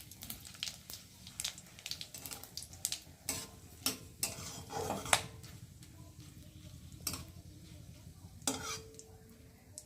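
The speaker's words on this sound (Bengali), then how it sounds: "দিয়ে ফোড়নটাকে ভালো করে ভেজে নেব" Whole cumin seeds and hand-broken dried red chilies fry in hot oil as a spice tempering, a soft sizzle broken by sharp stirring clicks and scrapes of a utensil against the pan, with no speech.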